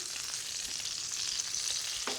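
Food sizzles and crackles steadily in hot oil, a continuous hiss with faint pops, close by and with no voices.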